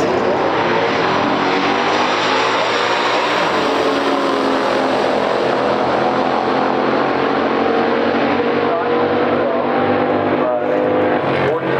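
A 1970 Plymouth Hemi Cuda with a 440 and a 1969 Chevrolet Chevelle SS at a stock drag race fill the air with a loud, continuous engine roar that holds steady, then shifts slightly in tone partway through.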